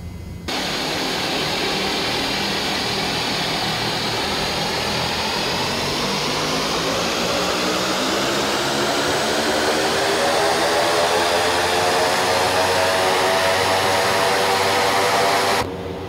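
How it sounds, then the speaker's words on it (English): A Quest Kodiak turboprop engine in the X-Plane 11 flight simulator spins up with a loud, continuous whine, its pitch sweeping steadily upward over a roaring rumble. "we have a good start on the engine now"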